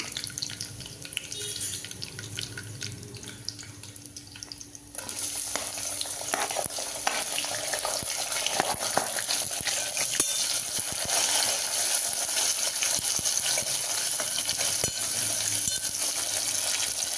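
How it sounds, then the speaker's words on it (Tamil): Curry leaves and onion tempering in hot oil for a mixed-vegetable kuzhambu. A steady, close sizzle starts softly, then swells louder after a few seconds, with occasional stirring clinks. "கருவேப்பிலை தலை கொஞ்சம் போட்டுக்கலாம் போட்டு வெங்காயமும் அதில் போட்டு தாளிச்சிக்கலாம்"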